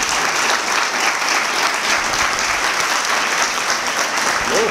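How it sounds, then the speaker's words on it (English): Steady, dense audience applause at an awards ceremony honouring winners, close and loud, sustained evenly throughout with no talking over it. "One last round of applause for them."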